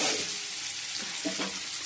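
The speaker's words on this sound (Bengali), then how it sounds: "এই জন্য আলুটা আবার ভেজে নিচ্ছি" Boiled potatoes fry with cumin seeds in a pan, a brief close hiss of oil with a couple of soft stirring scrapes, steady and fairly quiet.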